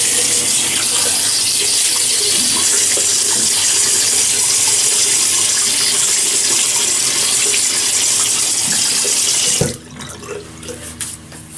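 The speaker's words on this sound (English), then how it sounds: "So let's wet the face." Water runs steadily from a bathroom tap into a sink as a face is wetted before shaving, a loud continuous splashing rush that stops abruptly near the end, leaving faint handling sounds.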